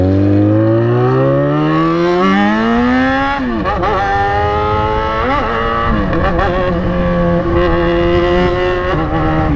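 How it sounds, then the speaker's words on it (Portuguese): Several motorcycle engines roar past nearby, revving and shifting pitch as they go by in a steady loud stream with no talking. "um comboio de moto passando ali"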